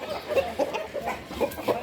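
Chickens cluck close by in a short burst of several soft, quick calls, with no talking over them.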